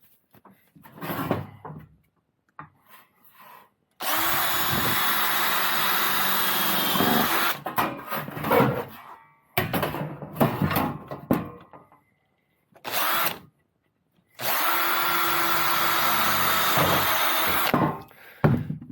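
Power drill boring a hole through the overlapping edge of a conical endcap, two long loud whirring runs separated by pauses and short handling knocks.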